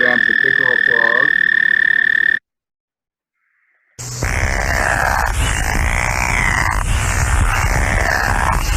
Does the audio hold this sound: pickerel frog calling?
yes